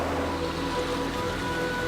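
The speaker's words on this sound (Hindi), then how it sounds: "अब एक विशाल और तेज नदी इस गुफा के बीच से बह रही है" Fast, huge river swollen by heavy rain rushing through a vast cave hundreds of metres underground, a dense, steady roar of churning water with no pauses.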